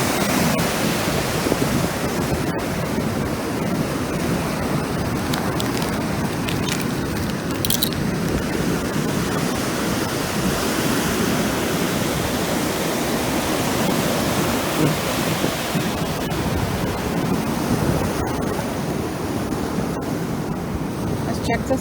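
Waves roll in on a rocky beach on a rainy day, a continuous close roaring wash of surf with no break throughout.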